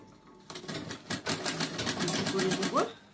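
A home sewing machine runs in a steady rapid burst while stitching a fabric bag, with a stop and some fumbling at the start and a rising whir near the end; faint talk sits in the background.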